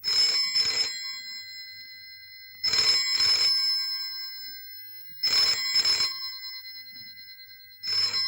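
A telephone rings in repeated double trills, three full cycles and the start of a fourth, loud and close with quiet gaps between.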